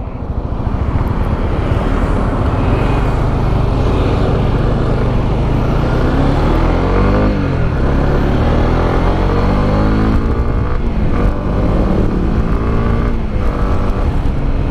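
A 2022 Honda CB150X motorcycle pulls away in first gear, a loud continuous engine drone that rises in pitch as it revs up, heard close and unbroken.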